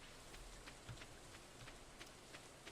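Steady rain falls in the Stardew Valley video game, a soft, continuous patter with scattered drop ticks, faint and alone without talk.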